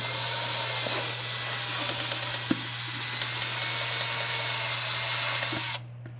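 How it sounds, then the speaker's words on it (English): A power drill whirs steadily for several seconds with a steady hum, faint scraping ticks as it bites through a lid, then cuts off abruptly near the end. "We're gonna drill a hole on this lid."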